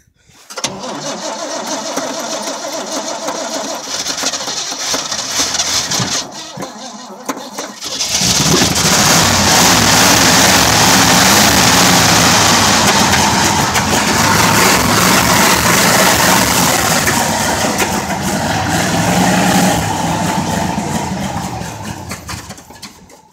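A 1967 GMC 4x4 dually truck is cold-started: a short stretch of cranking and low running, a brief pause, then the engine catches and roars loudly into a sustained rough idle close by.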